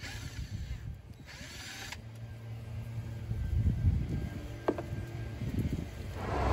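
A power tool whirs and rattles while an impact wrench works loose the blade on a lawn mower deck from an Ariens, Husqvarna or Craftsman mower, a continuous mechanical drone rising midway, close and fairly loud.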